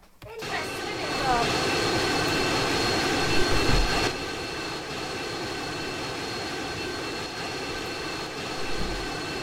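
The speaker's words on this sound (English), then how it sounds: "Right, let's get this plane working." A steady airplane engine drones throughout in a Roblox video game, a continuous whine with tonal hums that holds loud after a brief swell near the start, with a voice talking over it.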